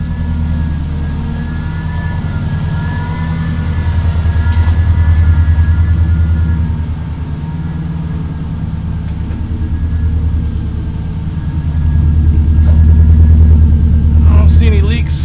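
A 1994 Subaru Legacy Turbo with a five-speed conversion idles without a muffler, a loud, deep, raw rumble with slow surges in level while people talk nearby.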